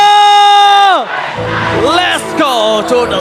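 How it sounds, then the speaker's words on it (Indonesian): A crowd at MPL Arena during a Mobile Legends esports match, Team Liquid ID versus Geek Fam in MPL ID Season 16, cheers and whoops loudly after a sustained tonal blare, with rising yells filling the hall. "So, MPL Arena, mana tepuk tangannya?"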